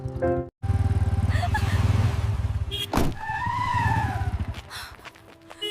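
Motorcycle skidding to a stop on a road, a loud buzzing engine that cuts out briefly, then revs again before a sharp tire screech and sliding noise, followed by more engine sound.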